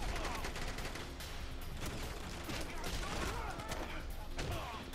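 Gunfire in The Bourne Conspiracy: a dense, continuous clatter of rapid shots and impacts, loud and close, mixed with crashing noise throughout.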